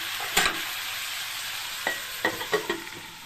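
Vegetables, pointed gourd and Malabar spinach, fry in a hot kadai with a constant sizzle, while a spatula scrapes and clanks against the pan in several sharp, close strokes.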